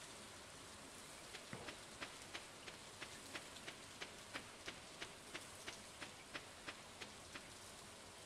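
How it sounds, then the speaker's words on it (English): Faint, continuous rain in Stardew Valley forms a quiet hiss, overlaid by a light, regular tapping pulse that keeps time from start to finish. "Rain sounds so nice."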